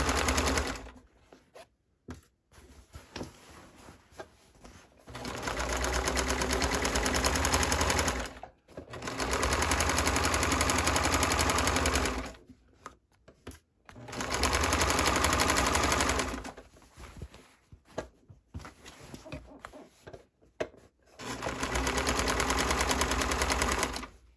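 A sewing machine stitching a classic tote bag runs in four long bursts of several seconds each, with short quiet pauses and handling noise between runs.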